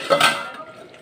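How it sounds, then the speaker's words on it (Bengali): A lid set down over a cooking pot of country chicken curry, a single close metallic clatter that rings briefly and then fades into a faint hum. "এবার এটা চাপা ঢাকা দিয়ে দিই"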